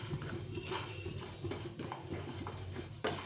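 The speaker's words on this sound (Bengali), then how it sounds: "তো এগুলো একটু শুকনো খোলায় ভেজে নিতে হবে।" Fennel, cumin and fenugreek seeds dry-roast in an oil-free pan for a jujube pickle, and a utensil keeps scraping and clinking against the metal in a quiet, steady rattle with an occasional louder knock.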